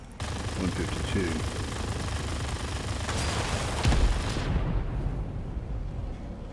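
Aircraft gunfire in the World of Warplanes flight game, with the FJ-1 Fury and a Spitfire involved: continuous rattling bursts over a dense engine roar, with a few heavier thumps partway through.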